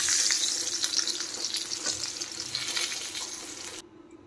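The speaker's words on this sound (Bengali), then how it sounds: "নেড়ে চেড়ে পটলও ভালো করে ভেজে নিতে হবে।" Pointed gourd (potol) sizzles loudly in a hot pan while being stirred, a dense continuous hiss with light scraping that cuts off abruptly near the end.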